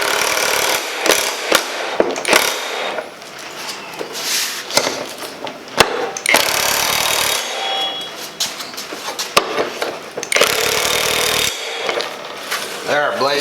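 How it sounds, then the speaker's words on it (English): A Bauer impact wrench fastens lawn mower blades in a garage, firing several short, loud, rattling hammering bursts close by, with quieter handling clatter between them. "So I love this Bauer impact wrench, just amazing."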